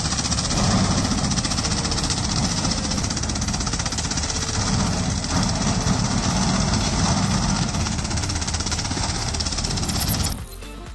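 A farm machine with a spinning disc of knife blades shreds banana stalks in a loud, continuous, grinding roar that holds for about ten seconds and then cuts off abruptly.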